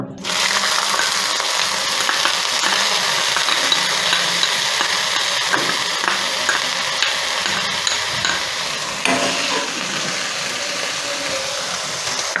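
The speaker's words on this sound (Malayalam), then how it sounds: "ആ വേവിച്ച മുതിര ഇതിലോട്ട് ഇടുകയാണ്" Cooked horse gram is added to a hot pan of mustard seasoning for a carrot thoran, and it is stirred. A loud, continuous frying sizzle runs throughout, with occasional scraping stirs close by.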